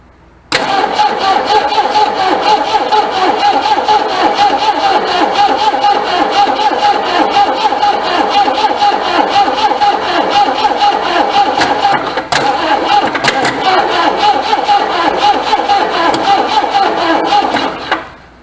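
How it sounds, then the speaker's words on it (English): The engine of a 1973 Ford Torino Sport cranks nonstop on a weak boost pack, a long, even, rapid churning close by that never catches. It runs for about seventeen seconds and then cuts off abruptly. "spin it over a couple more times, and see that we got anything with the engine turning over faster."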